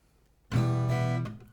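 A single strum on an acoustic guitar, landing after a brief quiet moment and ringing out as a full chord that slowly decays, with no talking.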